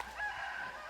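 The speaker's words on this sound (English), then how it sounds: "Hear the roosters in the background there." Roosters crow faintly in the background at an outdoor disc golf tournament, a single short, distant call with no talk over it.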